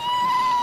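A female seal on a beach calls out to her pup in a single sustained, bleating cry with a steady high tone, fairly close and loud, with no talk over it.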